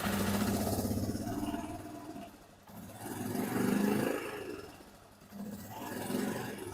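A Suzuki QuadRunner 230 quad engine being test fired after a rebuild, a low rough running rumble that swells and fades unevenly as it struggles, fairly close.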